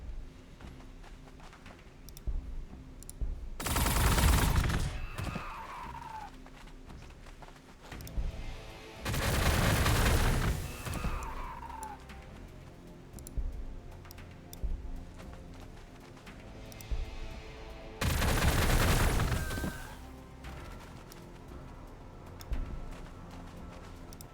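T'au firing line shooting in Warhammer 40k: Gladius, three loud, dense volleys of energy weapon fire, each lasting about two seconds and followed by a falling whine, spaced apart over a quieter background.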